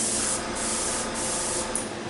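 Airbrush fitted with a 0.5 needle sprays paint onto a scale model part of the Dora railway gun, a steady close hiss that runs unbroken throughout with no voices.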